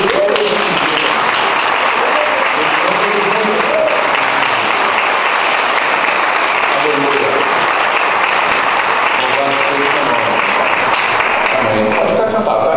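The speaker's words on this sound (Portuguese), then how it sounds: "Eu queria convocar você a ficar de pé e dar uma salva de palmas ao Senhor Jesus Cristo pelo que Ele fez" A standing church congregation applauds loudly and steadily for the whole stretch, a thick wash of clapping with voices faintly underneath.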